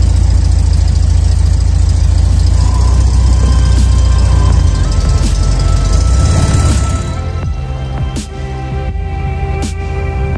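The air-cooled engine of a 1968 Volkswagen Beetle running during a ride, a loud steady low drone for several seconds that drops away into quieter rumble with a few faint clicks near the end.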